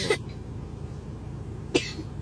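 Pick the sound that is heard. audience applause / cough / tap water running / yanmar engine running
cough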